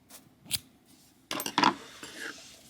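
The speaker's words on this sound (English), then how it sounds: "now we're going to cut our yarn." Scissors snipping crochet yarn: a short close snip, a pause, then a sharper cluster of cutting clicks and a faint scrape, in a quiet room with no talking.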